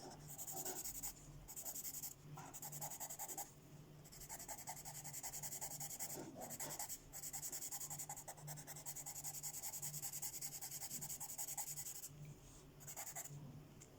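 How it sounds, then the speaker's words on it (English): Derwent pastel pencil is rubbed and blended on paper, a steady close scratchy rubbing with brief gaps, continuous and fairly quiet over faint background hum. "Rub all those little bits in that need brushing away."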